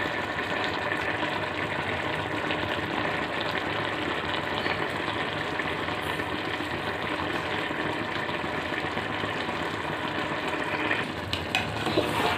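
Chicken biryani being stirred in a pot, a steady dense sizzle and bubbling with soft scraping of the spoon, continuous and fairly loud from start to finish, no voices.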